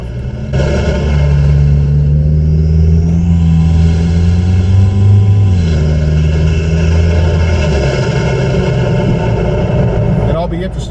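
Loud car engine droning and rising in pitch as it accelerates, heard from under the hood near a Banks intake, with a steady roar throughout.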